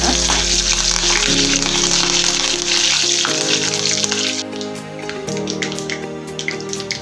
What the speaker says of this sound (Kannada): ಕಟ್ ಮಾಡಿ ಇಟ್ಕೊಂಡಿದ್ದ ಒಣಮೆಣಸನ್ನು ಹಾಕೊಳ್ತಾ ಇದ್ದೀನಿ ಹಾಗೆಯೇ ಕರಿಬೇವು ಸೊಪ್ಪನ್ನು ನೀಟಾಗಿ ಫ್ರೈ ಮಾಡ್ಕೊಂಡು